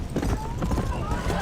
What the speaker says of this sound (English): Give me this horse. This is a horse, one of the 4 horses of the apocalypse.